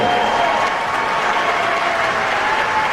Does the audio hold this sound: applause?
yes